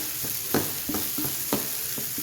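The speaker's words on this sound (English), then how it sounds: "You just heat up a dry skillet and you just put your tortillas right on that when it gets hot" Tortillas warming and toasting in a hot dry skillet for steak fajitas, giving a steady soft sizzle with a few light scraping or stirring taps spaced through it, fairly close and with no talking.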